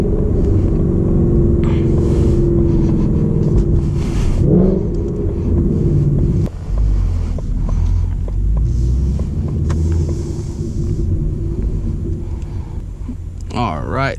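A manual-transmission car drives on a road toward a store, its engine rumbling steadily up close with a gear change partway through, while a person talks over the drone.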